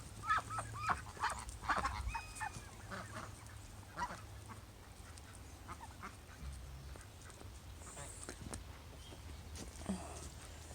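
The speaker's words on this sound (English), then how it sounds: "Beautiful ducks." Ducks quack and honk nearby outdoors in a scattered, overlapping chorus, loudest at the start and then thinning into faint calls over steady background noise.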